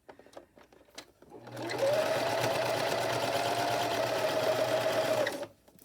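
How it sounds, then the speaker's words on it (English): A sewing machine stitches along the seams of an 18-inch doll's nightgown, running steadily for about three and a half seconds with a close, even motor whir, preceded by a few soft handling clicks. "It's a little bulky going over my seams here, so you can see I have to lift up my presser foot to get it to move over."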